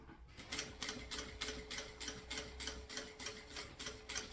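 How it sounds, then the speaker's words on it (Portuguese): A sewing machine stitches a finishing seam on a mini backpack with a steady, close, rapid rhythmic clatter that runs nearly the whole time. "feita aqui uma costurinha de acabamento"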